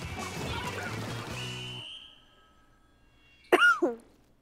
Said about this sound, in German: Hust, hust.